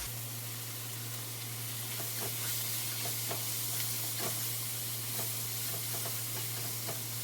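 Vegetables sautéing in a pan with mushroom seasoning blend, salt and pepper, giving a steady soft sizzle with occasional stirring clicks, quiet and close, no talking.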